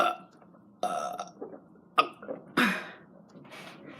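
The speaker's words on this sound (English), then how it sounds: "Now the loud burps." Several loud, close burps in a row, irregularly spaced, with the last one the longest and harshest, followed by some faint breathy noise.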